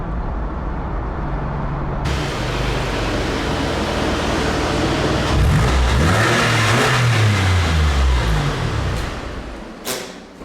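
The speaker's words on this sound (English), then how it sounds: "now I can really hear the engine. A very healthy engine on my drop top 911" A Porsche 911 convertible engine idles with a steady broad roar, then revs up and down in a couple of swelling pulls, loud and close, before settling back; no one speaks.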